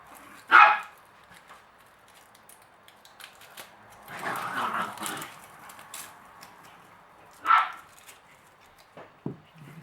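Pet dogs bark indoors in a home kitchen, with two sharp, loud single barks several seconds apart and a rougher burst of barking and scuffling between them.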